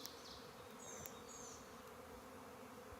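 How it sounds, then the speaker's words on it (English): Bees buzzing outdoors at a hillside cemetery, a faint, steady insect drone with a few brief passing buzzes over quiet background noise. "There's a lot of bees."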